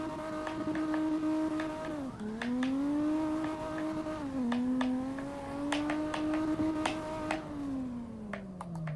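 A car engine in the CarX Drift Racing video game revs with a steady, strong tone that swoops down and climbs again as it holds the throttle through a drift, with a few sharp clicks on top.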